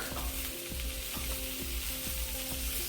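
Onions frying in a pan make a dense, continuous sizzle, with regular stirring strokes scraping through it.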